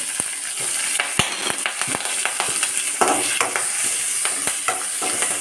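Sliced onion and green chillies sauté in a pan for a cabbage and green peas thoran, a continuous sizzle broken by frequent sharp scrapes and taps of a spoon stirring, close and busy.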